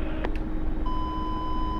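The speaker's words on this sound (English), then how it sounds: "you're gonna hit your weapon release button when you hear that beep" Inside the DCS Mi-24 Hind helicopter simulator, a steady high missile-lock tone sounds over the rumbling cockpit engine noise and holds unbroken until the end, after two short blips.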